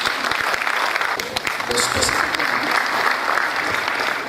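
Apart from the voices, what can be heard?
audience applause for a speaker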